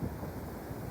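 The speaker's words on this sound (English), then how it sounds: "windy day like we're having" Wind blows at the top of a ridge on a windy day, giving a steady low rumbling buffet across the microphone with no voices.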